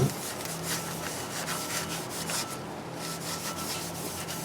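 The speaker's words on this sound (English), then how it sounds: "I got a Scotch-Brite pad here, and we're just going to put a little bit of a circular pattern on there to help the linings break in" Scotch-Brite pad scuffing a brake surface in circles on an IROC-Z wheel assembly, a soft rhythmic abrasive rubbing that repeats in quick strokes, close and fairly quiet.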